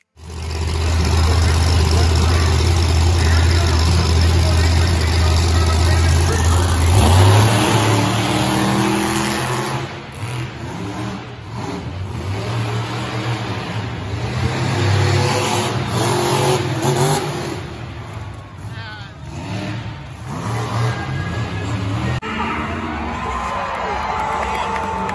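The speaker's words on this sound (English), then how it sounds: "Let's check out the Monster Truck Show." Monster trucks rev their engines inside a cold, dusty stadium in Denver, Colorado. A loud, steady low roar holds for the first seven seconds, then gives way to fluctuating engine revs over a crowd murmur.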